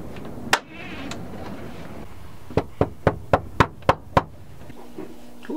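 Someone raps on a door in a quick series of about seven sharp, fairly close knocks, preceded by a single louder knock, with a low background hum throughout.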